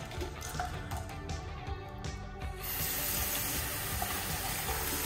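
Water runs from a tap close by, first as a broken, splashing trickle and then as a steady full stream that keeps going to the end. No voices are heard.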